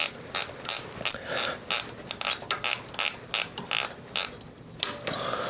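A ratchet wrench loosens bolts on a 1995 Harley-Davidson Evo Softail motorcycle, with repeated bursts of sharp ratcheting clicks in quick irregular rhythm, close and clear with no talk.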